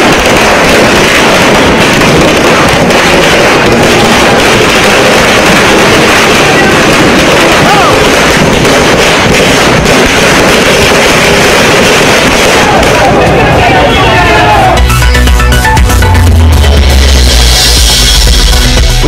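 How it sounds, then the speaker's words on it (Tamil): Firecrackers burst at a political celebration in Tamil Nadu in a dense, relentless crackle, very loud and distorted, popping rapidly without pause before shifting into heavier booms near the end. "பட்டாசு வெடித்து இனிப்பு வழங்கி இபிஎஸ் ஆதரவாளர்கள் உற்சாகம்."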